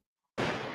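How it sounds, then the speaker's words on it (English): A sudden loud burst of gunfire erupts after a brief silence, sustained and harsh with heavy low rumble, like close-range shots or a rapid volley. "Oh my God, gunshots."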